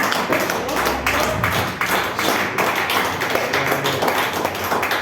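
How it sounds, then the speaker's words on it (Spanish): A church congregation claps along in dense, continuous applause with rhythmic tapping, loud and steady for the whole stretch, with voices mixed in. "Denle una ofrenda de palmas a Dios"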